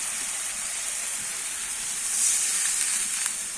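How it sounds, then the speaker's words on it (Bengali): Water poured into a pan of simmering spicy rupchanda fish curry with potatoes gives a steady close hiss and sizzle, swelling slightly partway through. "এবারে আমি জলটা দিয়ে দেবো"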